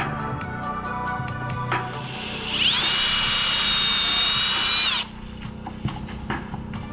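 Power drill driving a lag bolt into wood on a shop front, a loud sustained whine of several seconds that cuts off abruptly, framed by lighter tool handling before and after.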